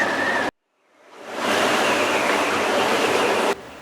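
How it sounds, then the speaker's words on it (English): Strong wind gusting 30 to 40 knots roars past a sailboat anchored in the Endeavour River, a loud broadband rush that cuts out, swells back up and holds steady, with no talk. "as you can hear, it is very windy and a bit scary"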